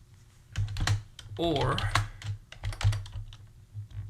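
Typing on a computer keyboard: rapid, irregular clusters of close key clacks continue throughout while someone talks over them.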